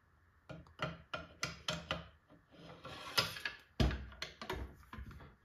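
Metal parts click, scrape and slide as a bolt is fitted into a B&T APC223 Pro rifle, a run of sharp close handling clicks and rubs with a few heavier knocks, no talk.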